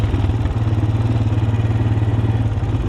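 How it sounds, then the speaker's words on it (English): Honda TRX250TE ATV running with a steady low engine thrum while loose tools rattle in its trunk, a continuous close clattering buzz throughout. "Got some tools in the trunk that guy had that are rattling"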